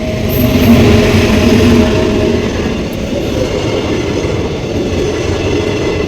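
A train rushes steadily past nearby, a continuous loud roar and rumble of wheels on rails with faint squealing, no voices.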